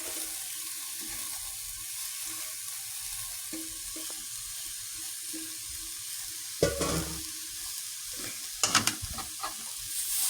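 Mushrooms being stirred in a frying pan for a mushroom curry, with a steady soft sizzle and a few louder scraping clatters of the spoon against the pan near the end, no talking.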